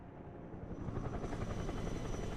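A CH-53 helicopter in the Broken Arrow game gives a dense, pulsing rotor thump with a broad engine roar, swelling slightly and holding loud and close, with no talking.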